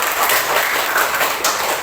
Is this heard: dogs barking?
no